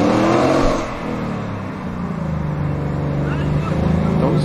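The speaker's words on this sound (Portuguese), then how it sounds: "isso daqui é um som do Mustang" Ford Mustang engine sound effect, a loud throaty rumble that dips briefly and then builds again as the car accelerates, continuous across the clip.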